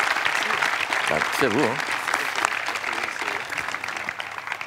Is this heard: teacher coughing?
no